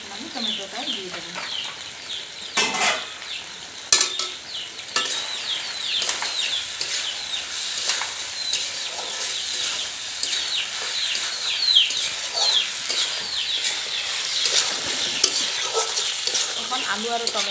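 A spoon scrapes and stirs potatoes and tomatoes frying in a village-style desi chicken curry, giving repeated close scraping strokes over a steady sizzle.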